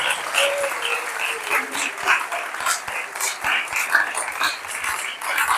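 A church congregation at a Sunday service claps loudly for several seconds, a dense, uneven wash of hand claps with scattered sharper individual claps and faint voices mixed in.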